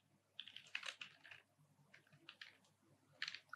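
Computer keyboard being typed on, a quick faint run of clustered key clicks with a short pause and then a final burst of taps.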